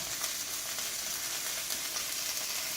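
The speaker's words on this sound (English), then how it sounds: "So I'm frying it in the olive oil" Steady, dense sizzling of baby Brussels sprouts frying in olive oil and butter, a continuous crackle with occasional louder pops, close and even throughout.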